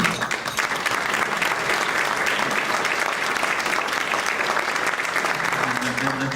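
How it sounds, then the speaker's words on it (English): An audience at a celebration event applauds steadily, a dense continuous wash of clapping from many hands that stays even from start to finish, with faint voices underneath. "let's give Frank a round of applause."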